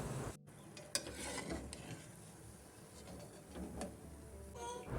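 Murukku fry quietly in hot oil as they are turned over, a soft continuous sizzle broken by a few faint clicks and scrapes of the utensil.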